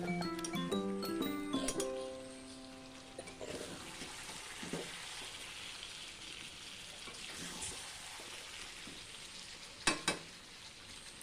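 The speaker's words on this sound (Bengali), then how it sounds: "এবার একসাথে সবটাকে কষিয়ে নেব।" Chicken and fried potatoes are stirred together in a pan. A soft sizzle sits under clattering and scraping of a utensil, with brief tonal clinks early on and a couple of sharper knocks near the end.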